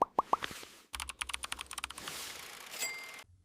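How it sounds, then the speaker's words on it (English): Rapid clicking of keys on a computer keyboard, a burst of quick irregular keystrokes with a few sharper taps at the start, close and fairly clear, ending abruptly. "Imagine trying to type on a standard Western keyboard"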